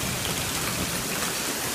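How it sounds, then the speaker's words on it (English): Hail falls outdoors in Colorado as a loud, continuous, dense clatter and hiss with no gaps across the short stretch. "Hear that? That's not snow, that is hail."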